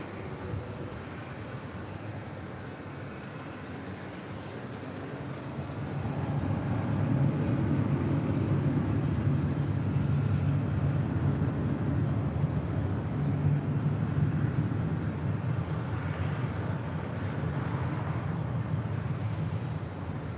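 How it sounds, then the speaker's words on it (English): An Asiana Airlines Airbus A350-900 jet departing Los Angeles gives a distant, steady engine rumble. The rumble swells louder about a third of the way in and then holds as a low continuous roar, with no talk. "Again, this is Asiana Airlines Flight 203 heading back to Seoul,"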